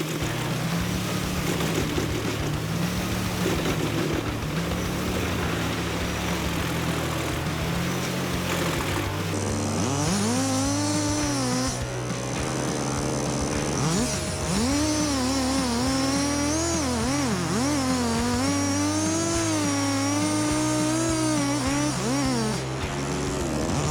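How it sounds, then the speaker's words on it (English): A chainsaw engine runs continuously and loudly, its pitch rising and falling as it revs, with a steady low rumble beneath. "The roar of the chainsaw shattered the stillness of the ancient forest."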